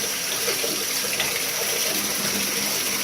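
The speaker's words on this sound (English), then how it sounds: "Run a little water through there. Rinse the outer slides." Water running from a tap to rinse the outer slides of a trombone, a steady close splashing hiss that keeps up evenly with no talking.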